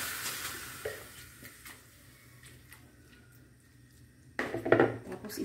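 Raw chicken pieces go into a metal cooking pot for Filipino tinolang manok, with dishes and utensils clattering. Light scattered clinks lead to a louder burst of knocking and scraping near the end.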